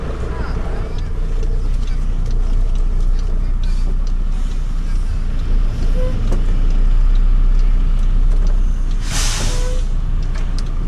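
Truck being nudged forward during a heavy towing job with an F4000 tow truck: a steady low diesel rumble runs throughout, with voices talking over it and a brief hiss of air near the end.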